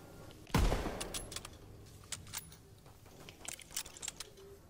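Gunfire in Call of Duty WWII: one loud close shot with a sharp onset and decaying tail, then a spray of fainter scattered shots and clicks over a quieter game background.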